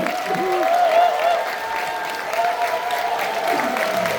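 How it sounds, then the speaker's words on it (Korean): An audience at a university student music performance applauds the performers with sustained, even clapping, with faint cheering and voices carrying over the hands throughout. "큰 박수 쳐주십시오."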